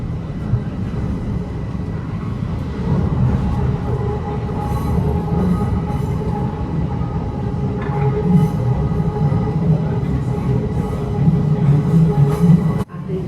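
A Bucharest metro train running, a loud steady rumble of wheels and motors heard from inside the carriage, continuous throughout with a brief dip near the end, no talking.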